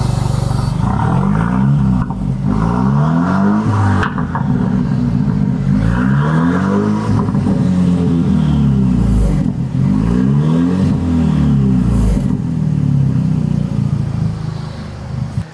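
A Jaguar car with a modified exhaust revs repeatedly, loud and close, its engine note sweeping up and down in four or five rhythmic cycles with a constant throaty roar between them.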